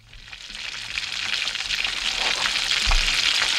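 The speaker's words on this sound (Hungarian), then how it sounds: "ha ennyi olajban sül a tojás" Eggs or breaded meat frying in a generous amount of hot oil give a steady, close hiss and crackle that grows a little louder and stays dense throughout.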